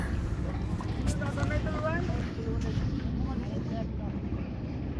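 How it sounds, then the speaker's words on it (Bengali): A fishing trawler's engine drones steadily on the Jamuna River with wind buffeting the microphone, while people talk faintly over the constant rumble. "এটা হচ্ছে আমাদের ট্রলার আমরা এখন টলার উঠবো"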